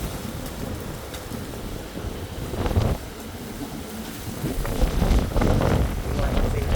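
Wind from Tropical Storm Milton gusts outdoors in West Palm Beach, Florida, buffeting the microphone in uneven rushes that swell and ease, with louder blasts near the middle and the end.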